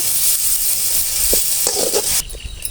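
Vegetables and drumstick greens sautéing in a pan, a steady close sizzle and hiss with a few soft stirring clinks before the sizzle drops away near the end.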